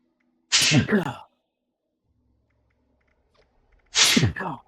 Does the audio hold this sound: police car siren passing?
no